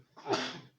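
A single short sneeze bursts out indoors, a quick sharp breathy blast lasting under a second, recorded close and moderately loud during a radio studio conversation.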